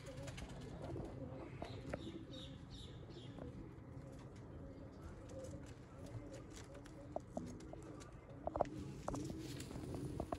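Sialkoti pigeons coo softly in a short series of low calls amid faint rustling and scattered clicks, with someone talking quietly in the background.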